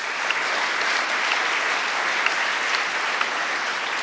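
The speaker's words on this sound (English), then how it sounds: "An applause." Steady applause from an audience following a startup pitch at an investor pitching competition, dense and continuous throughout with a few sharper individual claps standing out.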